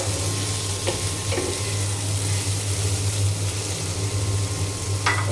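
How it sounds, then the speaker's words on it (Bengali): Broad beans with mature seeds frying and being stirred in a pan, a steady close sizzle with a few scraping stirs from a utensil, no talk. "এখানে যে শিম ভাজি করে নিচ্ছি, বসিয়ে দিয়েছি।"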